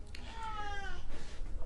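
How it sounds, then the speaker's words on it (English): A cat lets out a drawn-out, complaining meow, close by and fairly clear over a low background hum. "Can you hear my cat complaining about it?"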